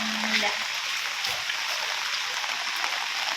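Heavy rain falls at a house, a dense, constant hiss of downpour that runs unbroken throughout, with a brief faint tone near the start.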